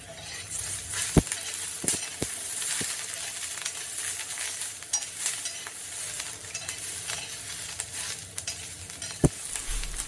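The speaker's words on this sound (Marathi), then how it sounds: "आपल्याला आता याच्यासोबत पहिला लसूण भाजून घेऊया म्हणजे लसूण पण उरलेल्या ज्या मिरच्या त्या सुद्धा व्यवस्थित भाजल्या जातील" Green chillies and garlic roast in a pan for tomato thecha, a steady close sizzle broken by sharp metallic clicks and scrapes of stirring, a few distinct knocks spaced irregularly.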